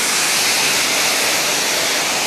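A constant roaring rush of falling water from a forest waterfall near Lençóis, loud and close, filling the whole short stretch without pauses or voices.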